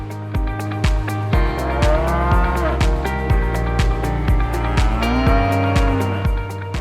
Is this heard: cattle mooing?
yes